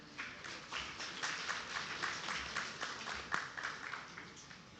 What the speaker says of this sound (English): may we have a huge round of applause for this panel